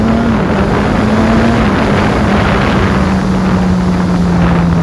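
A 2021 Suzuki Katana 1000 naked motorcycle engine drones loudly and steadily up close, its low tone sliding slightly downward, mixed with heavy wind rush and no voices.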